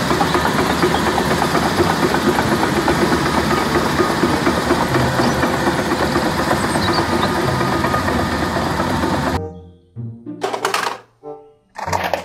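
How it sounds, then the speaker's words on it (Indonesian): A toy bulldozer's motor gives a steady, buzzing, rattling drone for about nine seconds, then cuts off and leaves a few short, choppy sounds. "Bulldozer."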